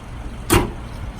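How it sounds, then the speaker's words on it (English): A single solid thud as the hood of a 2020 Subaru Outback is let down and latched, a short loud slam standing alone against a quiet background. "Let me let the hood down just for a second."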